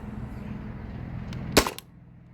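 A single sharp crack from a modified Valken M17 airsoft rifle fed by a 13 cubic inch HPA tank, one short loud shot near the end over a quiet background hum.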